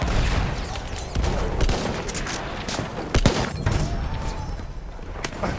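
Battlefield 1 multiplayer gunfire on PlayStation 5 plays as a steady battlefield din of distant shots and explosions, with a few louder nearby cracks standing out over the background.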